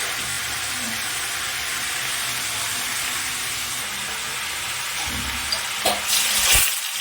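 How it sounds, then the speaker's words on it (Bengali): Bhola fish frying in oil in a wok, a steady close hiss of sizzling that swells louder near the end with a few sharp spatters and clatters. "এদিকে কড়াইতে তেল দেওয়া হয়েছে, এখন ভোলা মাছগুলো হালকা করে ভেজে নেব।"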